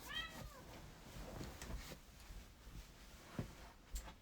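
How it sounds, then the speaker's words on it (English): A pet cat meows at a door of a home office, a few short high cries near the start, fairly faint against room noise, followed by scattered soft knocks and thumps. "She's meowing at the door."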